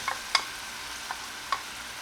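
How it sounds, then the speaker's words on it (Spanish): Green and red peppers with white and purple onions fry quietly in oil in a pot, a soft hiss broken by a few light clinks of a utensil against the pot, with no talking. "esto lo vamos a freír aproximadamente por unos 2 a 3 minutos para que nos queden crujientes"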